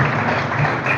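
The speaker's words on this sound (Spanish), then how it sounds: "Dale un aplauso a Dios esta mañana, hermano." Church congregation applauding during a sermon, a dense, even patter of many hands clapping at steady volume, brief and without speech.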